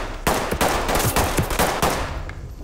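Rapid bursts of gunfire in the tactical shooter Ready or Not, shots punching through walls, loud and close with irregular clusters of sharp reports over a dense, steady rumble.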